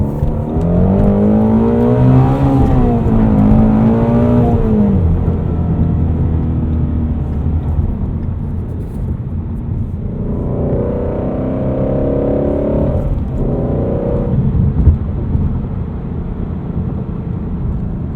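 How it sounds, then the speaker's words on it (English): A 2016 Ford Mustang Shelby GT350 V8 revving hard on the move, loud and steady with the pitch rising and dropping through the shifts, no voices over it. "This engine is just incredible."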